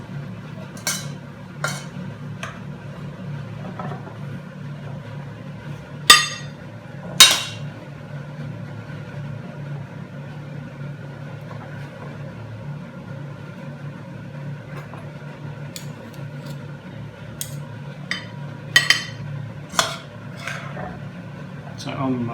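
Metal spoons and pans handled with an oven cloth while poaching haddock: scattered bright clinks and taps, some close and sharp, over a steady low kitchen hum.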